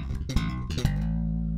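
A quick, punchy slapped bass triplet lick with two sharp percussive bursts, then a low note left ringing.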